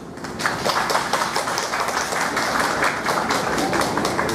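Audience members at an outdoor summer fish festival clap loudly to vote for a song, a dense, continuous wave of many hands clapping at full strength for several seconds.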